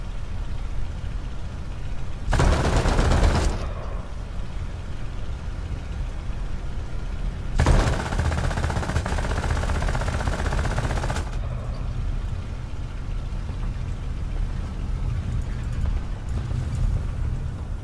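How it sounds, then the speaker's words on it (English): Aircraft cannons in the War Thunder Midway campaign fire on buildings in two loud sustained bursts of roughly one and four seconds, heard over a steady engine drone that continues between them. "Cannons are out of ammo."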